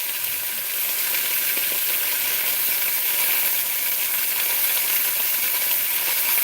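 A roast sizzles loudly in a pan after being flipped, a dense, continuous, steamy hiss that holds steady throughout, close and alone with no voices.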